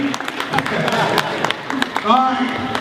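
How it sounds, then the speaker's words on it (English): An audience at a live debate event applauds a speaker, a scattered clatter of claps with a voice talking over it and a cheer rising near the end. "Let's give our brother a round of applause as well"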